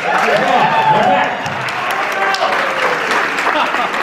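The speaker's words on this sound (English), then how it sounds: "You can applaud" Audience applause following a salsa dance performance, a dense wash of clapping that stays steady and fairly loud for the whole stretch, dipping slightly midway before carrying on.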